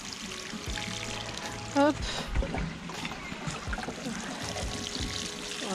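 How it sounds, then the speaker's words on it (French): Newly planted autumn planters are watered in a garden, giving a steady close pour and trickle of water against continuous background noise, with a brief spoken word. "J'arrose quand même. Parce que voilà, quand on plante, on arrose."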